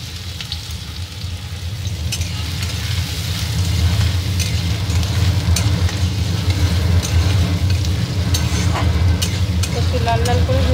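Finely chopped onion frying in two large spoonfuls of ghee, a loud continuous sizzle with a low rumbling undertone and scattered sharp crackles and clicks, close up with no talk.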